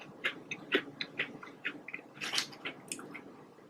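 Crunchy bites of Popeyes fried chicken, chewed close to the mic in a quiet eating session, with a rapid series of crisp crackles and squishy chews and no talking.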